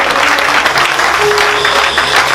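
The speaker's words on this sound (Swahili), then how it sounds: "Piga makofi kwa mtoto wake." A church congregation at a Sunday service claps together, a dense, loud, sustained burst of applause with some voices mixed in.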